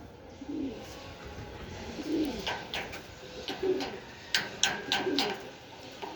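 Racing pigeons coo in low, throaty bursts during a training release in Urdaneta, Pangasinan, repeating every second or so close by, with short sharp clicks and flutters between the calls.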